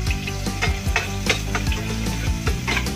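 Garlic sautéing in a pan, a loud, close, continuous sizzle broken by rhythmic scraping and clanking from stirring, with no voices.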